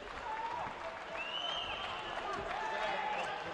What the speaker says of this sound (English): You can hear the cheers in the crowd.